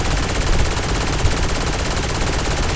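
Video game gunfire in Saints Row: dense, continuous automatic shooting, loud and unbroken across the clip, with no voices over it.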